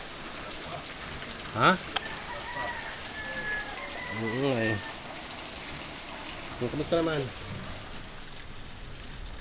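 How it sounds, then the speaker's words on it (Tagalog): Steady typhoon rain hisses in the background while a few people speak briefly over it, in Marikina, Philippines. "Sana huwag masyadong lumakas ang ulan"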